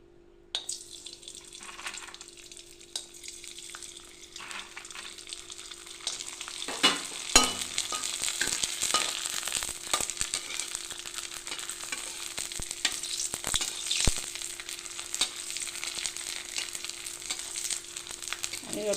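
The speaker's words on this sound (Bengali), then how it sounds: "কড়াইয়ে তেল গরম হয়ে গেছে, এবার আমি পাঁপড় ভাজবো।" Rice-starch papad frying in hot oil in a wok gives a steady, quiet sizzle throughout, with a few louder crackles and occasional stirring clinks.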